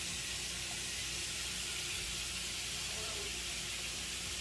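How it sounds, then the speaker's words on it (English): A steady, loud sizzle and hiss of pepper steak meat frying in a hot pan, continuous and close with no pauses. "So we're going to add all of this meat. You hear that sizzle?"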